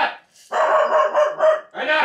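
A pet dog barks while a man chases it around the house, loud and close, in quick bursts separated by a brief pause, with voices mixed in.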